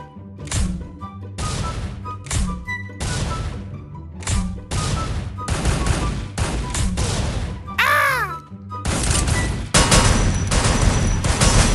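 Rapid bursts of gunfire from a shooting video game crackle in repeated volleys with brief gaps between them, loud and close, with a short burst of other sound near the middle.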